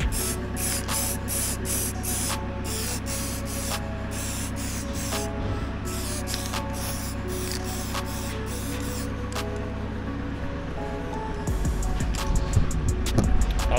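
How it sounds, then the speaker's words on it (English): Red oxide spray paint hissing from an aerosol can onto welded steel of a recovery truck spec lift, in a series of short bursts followed by longer continuous sprays, close and loud with no talking. "Right, we're just gonna get a bit of spray on now."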